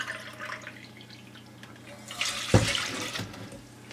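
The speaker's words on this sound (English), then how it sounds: "We're going to add 1 cup of cold water now." One cup of cold water poured from a cup into a bowl in a home kitchen, a brief close splashing gush that swells near the middle and fades quickly, following faint dripping and quiet background.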